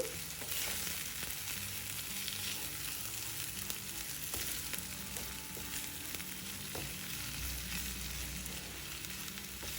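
Cabbage and egg fry in a pan with a continuous crackling sizzle and occasional stirring scrapes, steady and close, with no voices.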